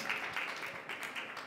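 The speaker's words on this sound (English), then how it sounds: "you can clap again, welcome" A conference audience claps in welcome, a moderate crowd of hands producing continuous, slightly uneven applause heard from across the hall.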